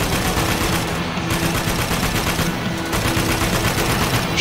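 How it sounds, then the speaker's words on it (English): Rapid automatic gunfire from the military shooter game Spec Ops: The Line, a continuous dense rattle of shots filling the whole moment, loud and close with no talk. "Shooting at me now."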